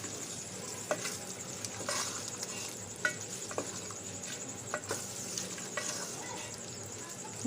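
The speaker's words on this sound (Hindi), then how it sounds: "मिक्स करेंगे अच्छे से।" Boiled, strained chickpeas stirred in a frying pan give a soft sizzle with irregular spoon scrapes and taps, fairly quiet and close, over a faint high steady hum.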